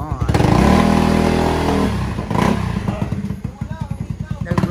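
Motorcycle engine revving hard and loud up close, then dropping to a lumpy, pulsing idle with uneven throttle blips, while people talk over it.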